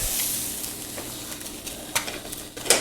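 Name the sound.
flipping a frying egg in a hot pan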